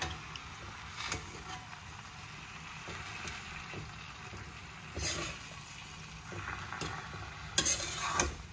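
Fenugreek leaves with moong dal and ground masala being stir-fried in a pan for Maharashtrian methi bhaji: steady low sizzle with scraping stirring strokes at irregular intervals, fairly quiet and close, with no voices.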